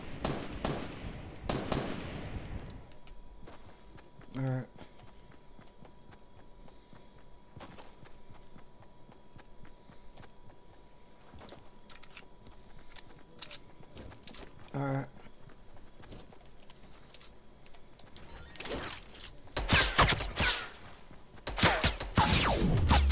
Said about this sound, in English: Is that you or somebody shooting at you?